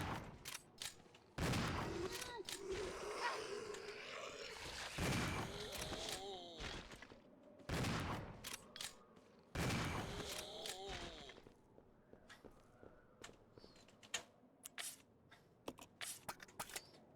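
Shotgun blasts in Resident Evil 0, several sharp booming shots spaced a few seconds apart, each with a short tail, plus lighter clicks and rattles between them.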